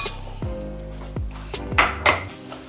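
Metal utensil clanking against a bowl while panko crumbs are mixed with butter and cheese, several sharp knocks and scrapes spaced through the stretch, fairly close, no talking.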